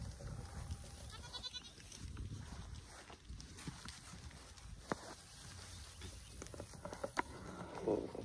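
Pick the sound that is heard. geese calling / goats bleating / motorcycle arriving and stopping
goats bleating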